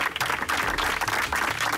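Applause for a competing team on an outdoor reality competition show, a dense wash of clapping filling the whole moment at steady moderate loudness with no voices over it.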